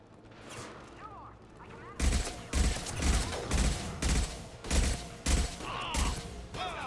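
Rifle fire in the video game Mass Effect 2 comes in evenly spaced heavy bursts of shots, loud and close, after a quieter stretch of battle ambience.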